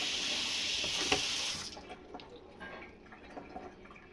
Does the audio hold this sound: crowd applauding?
no